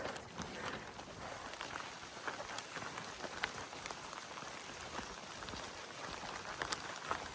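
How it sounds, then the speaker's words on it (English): Rain patters on hikers' ponchos during a steep summer climb on the Appalachian Trail, a faint, dense crackle of drops with occasional louder taps and no voices. "So the rain actually feels nice right now."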